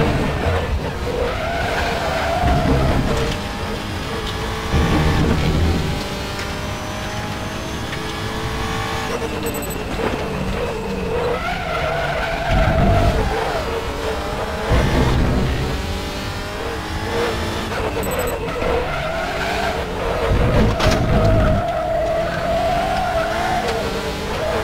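Race car in the RaceRoom WTCR esports game running off the track at Hungaroring, with a steady loud engine drone and bursts of tyre scrub and skidding noise throughout, no talk.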